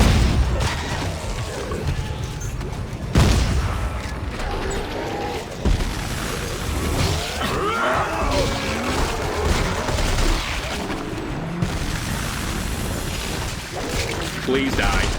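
The force gun fires repeatedly during Dead Space 3 combat, with heavy blasts and mechanical clanks amid dense game noise and continuous talking over the action.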